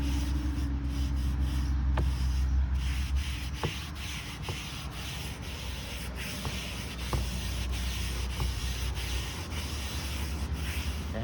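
Steady abrasive scrubbing of a rusty Lodge cast iron pan with an SOS steel wool pad, a continuous close rasping rub with occasional sharper scrapes, no voices.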